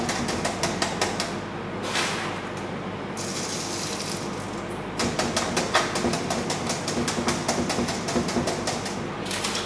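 Star composition with 3% dextrin, granulated through a 4 mesh sieve, is tamped into a 4 inch silver spider web firework shell. Rapid, even mechanical taps run almost continuously, with a brief stretch of steadier noise midway.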